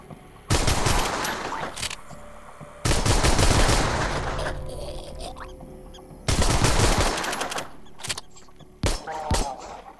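Machine gun fire in the zombie shooter game Arizona Sunshine: three long, loud rapid bursts separated by brief pauses, followed by a shorter final burst.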